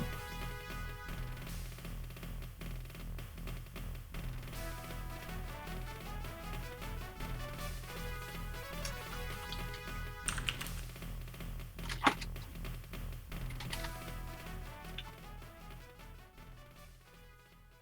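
Steady typing on a computer keyboard, a continuous patter of small clicks under quiet background music, with a few sharper louder keystrokes partway through.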